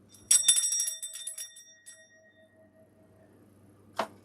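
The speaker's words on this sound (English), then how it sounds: "I feel like I need to be ringing a bell for those." A small bell rings sharply once, its bright metallic tone ringing out and fading over a couple of seconds, followed by a quieter click near the end; no talk.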